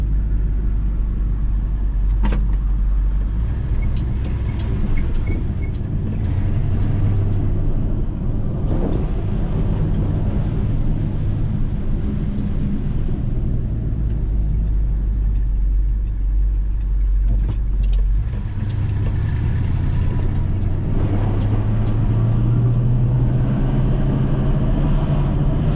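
A 1979 Dodge Stepside truck with a stalling problem rumbling along in low gear at high revs, a deep steady engine drone from inside the cab with occasional rises in pitch and small knocks.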